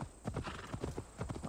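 Horse hooves clip-clopping in the video game Assassin's Creed Valhalla, a quick, steady trotting rhythm of fairly faint hoofbeats at close range.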